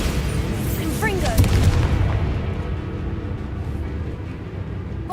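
A fiery Confringo blast spell from Hogwarts Legacy bursts with a loud booming impact and crackling rumble, followed by a decaying low roar amid game sounds.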